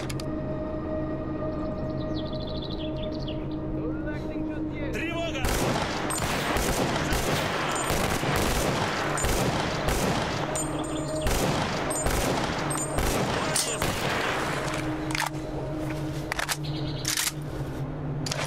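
An A9 automatic rifle fires in the game Stalker Clear Sky with the Last Fallout Overhaul mod, set at the Cordon military area. A few seconds of tonal ambience give way to loud, rapid, sustained bursts of gunfire.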